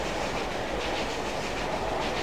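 A train video game plays a steady, continuous rumble and clatter of rolling rail cars, loud and unbroken throughout, with no voices.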